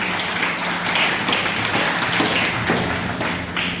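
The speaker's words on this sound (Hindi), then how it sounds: "तो जोरदार ताली बजाइए।" An audience at a theatre discussion event in Gwalior claps with uneven, scattered hand claps and taps rather than a full roar, steady and moderately loud throughout without speech.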